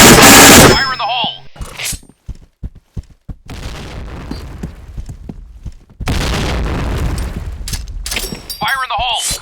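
Rapid gunfire and grenade blasts in the shooter game Point Blank erupt in loud bursts and crackling volleys. Brief quiet gaps separate the bursts, and game voice callouts sound between the explosions.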